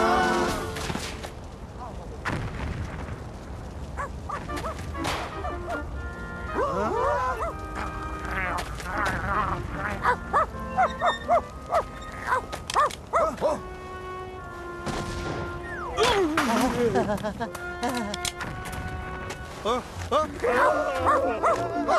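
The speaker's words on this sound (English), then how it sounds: "Hear that? It's the captain's dog!" A captain's dog yaps and barks in short bursts amid an animated fairy-tale scene, the calls mixed under music and excited voices, moderately close.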